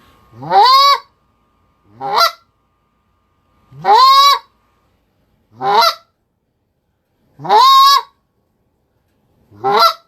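Goose call imitation practice, a caller's loud honking moans alternating with shorter sharp clucks, six calls spaced evenly and heard clearly on their own.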